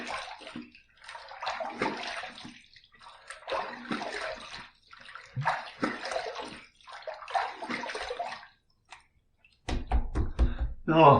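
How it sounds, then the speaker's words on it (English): Water rinses a razor after the third shaving pass, several bursts of running, splashing water in a sink separated by pauses, ending with a louder, lower gush. "Third pass done. Let's rinse."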